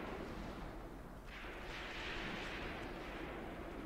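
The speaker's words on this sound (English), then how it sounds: "we are still shooting at them from the flank now" Flanking gunfire in the Graviteam Tactics war game, a faint, distant low rumble of shots and booms blending into a steady background roar, with no clear separate bursts and no voices.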